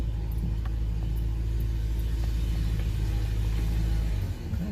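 An old shop truck that hasn't been driven in a while pulls away, its steady low engine rumble loud and close throughout before easing off near the end.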